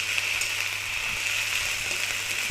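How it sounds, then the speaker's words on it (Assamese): Ginger-garlic paste fries with browned onions in a pan, a steady bright sizzle with light scraping and stirring taps close by, plus a faint low hum underneath. "আদা নহৰু পেষ্টখিনি অলপ সময়ৰ বাবে ভাজি ল'ম"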